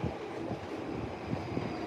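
A Yamanote line train passing through Tokyo Station: a steady, broad rumble of rolling stock with faint rhythmic wheel clacks, heard from some distance at a constant moderate level and no talk.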